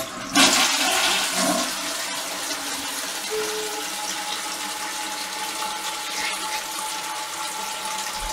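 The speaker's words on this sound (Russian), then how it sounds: "Сейчас мы ему спустим воду." A household toilet is flushed, a loud rushing gush of water that settles into a steady swirling drain and refill hiss, with a faint high tone running through it and no talking.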